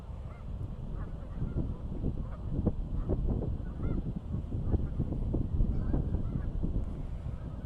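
A flock of geese honking repeatedly outdoors on a hot summer day in Rockford, Illinois, overlapping nasal calls in an irregular busy rhythm, fairly close, with no talking.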